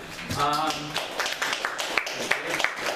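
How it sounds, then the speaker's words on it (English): A brief scatter of clapping from attendees at a board meeting, a few sharp claps rising after a spoken voice, modest and close. "he deserves a round of applause for all the great work that he has"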